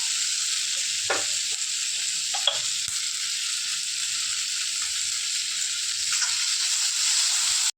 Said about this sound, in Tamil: எடுத்து வச்ச தக்காளி போட்டு நல்லா மசிய வதக்கிக்கணும் தக்காளி மசிற அளவுக்கு வதக்கணும்